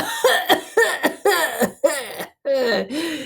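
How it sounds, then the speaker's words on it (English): A man coughs about six times in quick succession, close and loud, with short rough bursts and a brief pause before the last few. "had to cough a few times before he began"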